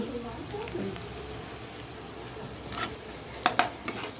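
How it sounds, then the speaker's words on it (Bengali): Onions frying with salt, stirred in the pan: a low steady sizzle with a few sharp spoon taps and scrapes near the end. "নুনটা দিয়ে ভালো করে ভেজে নিই"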